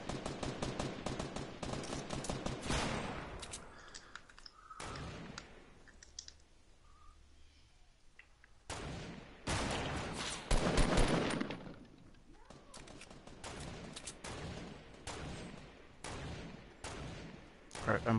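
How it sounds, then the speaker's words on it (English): Rapid bursts of Fortnite gunfire crackle in repeated volleys across a team match, sharp shots clustering densely at the start and end, with voices chatting over the fighting. "Yeah, there's someone shooting."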